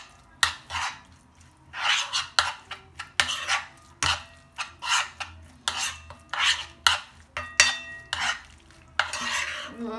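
A kebab filling for bourek is stirred in a pan off the heat, a utensil scraping and clinking in steady repeated strokes, about a dozen sweeps in a row with no voices over them.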